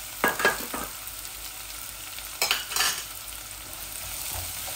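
A medium-sized onion frying in hot oil gives a soft steady sizzle, with two short bursts of louder stirring and scraping near the start and around the middle, close and quiet, no voices.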